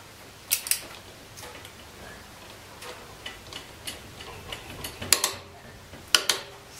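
A series of sharp mechanical clicks and ratcheting ticks from a torque wrench tightening a crankshaft pulley bolt to 128 newton-metres, with a few louder snaps standing out, close by and without talk.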